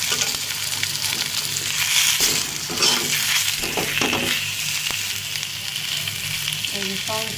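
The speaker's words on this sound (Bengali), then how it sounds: "অল্প তেলই ভাজতেছি" Fish shallow-frying in a little hot oil, a steady close sizzle and crackle running throughout with occasional pan clinks and stirring, no voices.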